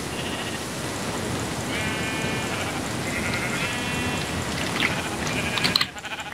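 Sheep in Minecraft bleat repeatedly at a moderate distance, several drawn-out wavering calls over a steady rain-like hiss of game ambience.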